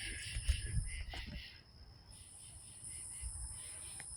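A cricket chirping at night at a stealth campsite, a steady, thin, high-pitched trill that pauses briefly and resumes, fairly faint over low outdoor rumble.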